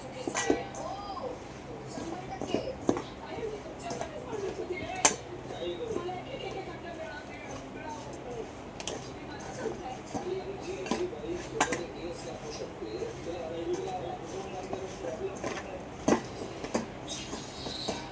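Soya chunks being mixed with red chilli powder and turmeric in a bowl, giving steady light clinks and scrapes of a utensil against the dish, with occasional sharper knocks throughout and a low background hum.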